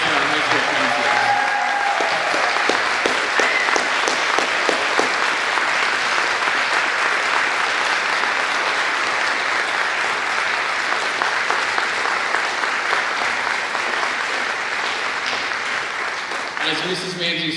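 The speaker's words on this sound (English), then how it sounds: "let's have a round of applause for our high school counselors." An audience at a band camp concert applauds in a sustained, dense clatter of clapping that holds steady for the whole stretch and tapers slightly toward the end.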